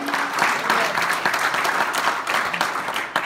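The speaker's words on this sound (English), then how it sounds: "Can somebody give God a hand clap of praise?" A church congregation claps in praise together, giving a dense, steady burst of hand clapping that fills the room for a few seconds with no talk over it.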